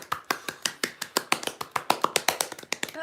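One person claps close to the microphone in a quick, fairly regular series of sharp individual claps, about a dozen or more over a few seconds.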